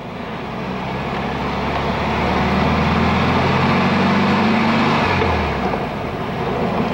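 A 1966 Volkswagen with a 6-volt transmission pulls away in first gear, its engine drone swelling steadily over a few seconds, then easing off as the car slows near a fence post.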